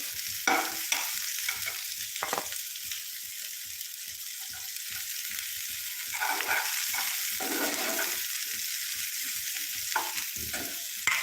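Finely chopped garlic frying in a pan for pasta and stirred constantly, giving a loud, continuous sizzle broken by many quick spoon scrapes, near and without speech.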